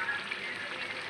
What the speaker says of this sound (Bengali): আমি পাঙ্গাস মাছগুলো সুন্দর করে দিয়ে দিচ্ছি, দিয়ে একটু হালকা হালকা লাড়া দিয়ে নেই